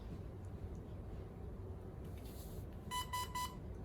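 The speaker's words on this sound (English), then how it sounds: "that beeping is the sound of the Gate Titan recognizing the battery" A Gate Titan gate controller beeps as it recognizes a freshly plugged-in LiPo battery: three short, clear electronic beeps in quick succession near the end, over a steady low background hum.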